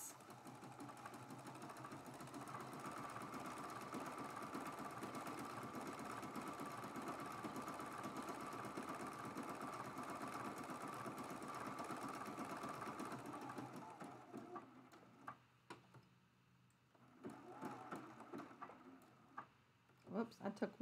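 A sewing machine stitches a quilt border in a steady, close run of rapid needle strokes, stopping near the end with a few short bursts and handling noises while a person talks.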